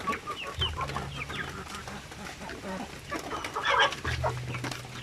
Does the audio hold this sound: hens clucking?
yes